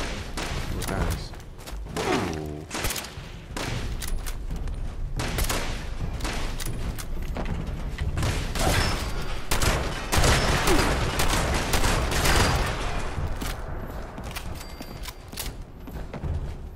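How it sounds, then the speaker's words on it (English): Repeated muffled shots from a suppressed gun in the game Fallout 76 come in quick bursts with soft thuds, mixed with game ambience and occasional talk. "My gun sounds like a pea shooter."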